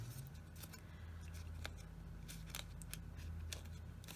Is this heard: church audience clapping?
no